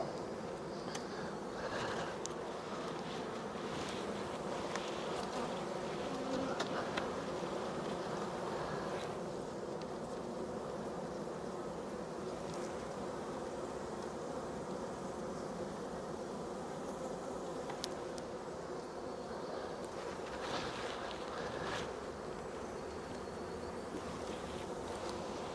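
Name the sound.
honey bees buzzing around an open hive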